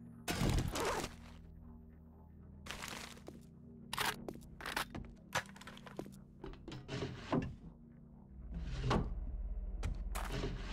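Door being smashed apart in the video game 7 Days To Die, with a series of sharp wooden cracks and thuds at irregular intervals, close by, followed by a low rumbling hum.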